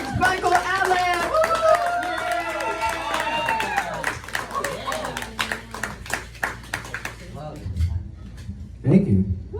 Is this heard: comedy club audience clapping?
yes